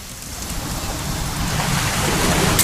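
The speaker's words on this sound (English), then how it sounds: "It's gonna rain the whole weekend," Heavy rain pours in the video game What Remains of Edith Finch, a thick continuous wash of drops with a low rumbling undertone, swelling slightly louder toward the end, no voices.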